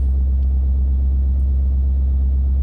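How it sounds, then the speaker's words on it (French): Citroën/Peugeot 1.6 e-HDi diesel with a power-loss fault held at full throttle around 2000 rpm, a steady loud low rumbling drone with a shuddering vibration throughout, no voices. "Et là, la voiture, elle est à 2000 tours et puis elle tremble partout. On entend très bien."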